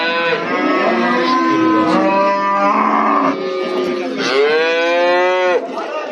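Cattle at a rural livestock bazaar moo loudly and close, with several drawn-out lowing calls in succession.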